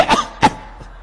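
A person coughs twice in quick succession, close and fairly loud, followed by a fainter third burst, with no talking.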